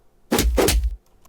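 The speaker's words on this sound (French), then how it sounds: "c'est les coups de poing." Two punch impact sound effects land in quick succession, each a heavy, thumpy hit with a crisp top, isolated against near silence.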